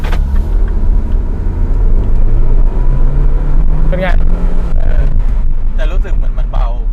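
A Mini Cooper S R56 with a 1.6 turbo engine is driven on the road, its engine droning and rumbling from inside the cabin, while people talk over it.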